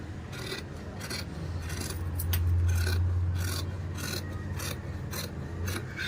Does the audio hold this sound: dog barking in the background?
no